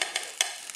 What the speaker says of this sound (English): And it's boiling. Sizzling.